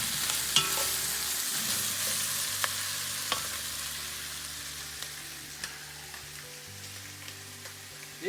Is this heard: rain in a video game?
no